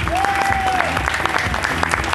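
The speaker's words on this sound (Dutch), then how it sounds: "Eerst en vooral een warm applaus voor onze Mark." Warm applause from an outdoor crowd at the closing finale of the Ghent festival, a dense sustained clapping with background music tones and a faint voice mixed in, loud and steady.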